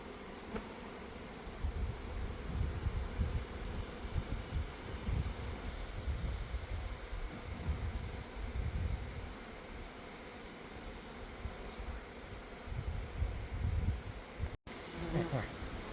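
Honey bees buzz steadily in an open hive during a fall inspection, a dense, close, continuous droning hum with light rustling of frames and faint movement throughout.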